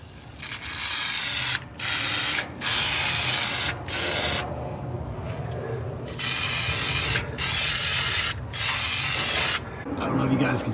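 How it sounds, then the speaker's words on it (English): Lubricant sprays in repeated long hissing bursts onto the dry springs of a VW Beetle, close and loud, with short pauses between about seven bursts. "let's lube up the springs"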